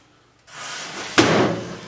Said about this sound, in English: Make sure you're ready to slam the door